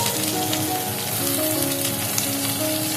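Potato pieces fry in hot oil with a little salt, a dense, continuous crackling sizzle like rain on a surface, steady and close throughout.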